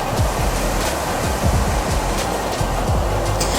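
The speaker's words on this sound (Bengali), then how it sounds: "এই ঝর্ণাটিকে লোকাল নাম দেয়া হয়েছে বেনেসোল ঝর্ণা বলে" Benesol waterfall near Ghatshila in the monsoon, a steady broadband rush of falling water with low churning rumble, continuous and fairly loud throughout with no voices.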